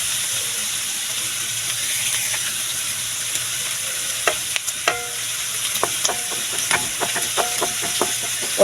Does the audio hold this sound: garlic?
yes